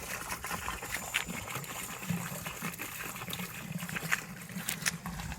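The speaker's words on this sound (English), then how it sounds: "you take half the antifreeze and you pour it in first" Antifreeze is poured into the pipe of an inground swimming pool being winterized, a soft liquid trickle and gurgle running close and faint for several seconds.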